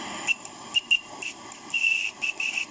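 A homemade steam whistle leaking steam, giving short bursts of hissing, whistle-like tones in quick irregular spurts, close and fairly loud with no one talking.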